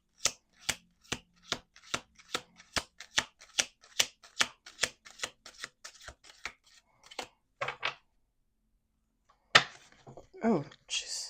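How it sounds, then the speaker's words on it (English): Playing cards riffled on a table in a steady series of about twenty crisp snaps, close and distinct, followed by a pause and then a brief voice. "Last shuffle."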